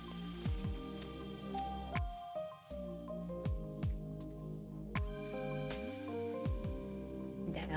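Water drips steadily, each drop landing as a distinct resonant plink, repeating at irregular intervals over a low sustained tonal backdrop.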